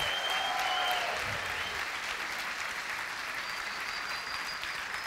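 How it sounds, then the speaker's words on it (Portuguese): Enthusiastic applause fills a church as the congregation claps hard, a sustained, fairly distant wash of many hands with no clear individual claps, alongside faint tonal sounds and murmuring voices. "Você pode aplaudir bem forte ao Senhor?"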